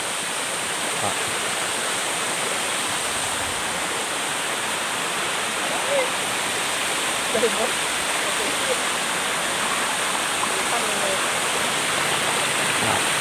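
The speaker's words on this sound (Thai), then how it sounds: "น้ำตกตาดหมอกครับ" Tat Mok waterfall in Doi Saket, Chiang Mai, roars as a steady, dense rush of falling water, loud and unbroken throughout, with faint traces of other sounds barely emerging.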